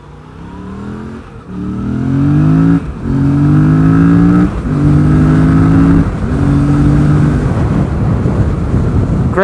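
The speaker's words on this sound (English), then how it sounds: "Great power from this bike" A Yamaha FZ07 motorcycle engine revs loud and close through several rising gear pulls, each one climbing in pitch and then breaking off at the shift, with wind roar building toward the end.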